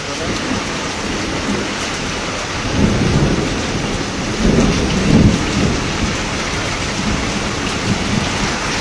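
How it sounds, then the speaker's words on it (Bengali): Heavy rain pouring in Rupnarayanpur with thunder, a dense steady hiss of rainfall broken by two deep rumbling swells of thunder, loud and close throughout. "প্রচুর বৃষ্টি হচ্ছে"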